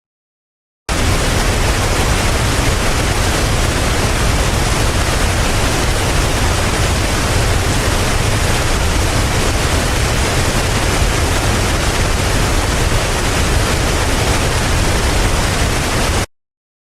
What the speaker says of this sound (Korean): 자, 이번에는 폭포 소리를 제가 이제 들려드리려고 합니다.